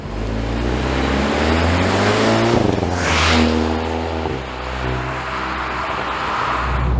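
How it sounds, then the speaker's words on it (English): A 2022 Hyundai Veloster N with a dual-clutch transmission roars through rising revs, dipping and climbing again as gears change, with a deep exhaust rumble throughout and no talking. "if you put your foot down, you can hear that exhaust"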